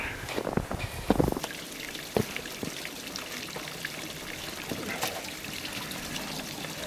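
Water trickles and splashes faintly at Fairbrook, a small brook on Kinder Scout, as it is scooped up. Irregular soft drips and pours sound over steady outdoor background noise.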